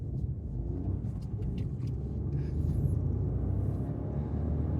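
A tuned Mitsubishi Colt driven hard through a sharp corner on a hill road, its engine a low, heavy rumble heard from inside, steady and close, with faint higher tire or mechanical noises flickering above.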